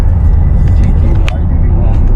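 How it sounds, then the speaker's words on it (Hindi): Road traffic on a US commute, heard from inside a car: a steady, loud low engine and road rumble running throughout, with a brief higher whoosh near the middle and someone talking over it. "तो ये है यहाँ का ट्रैफिक।"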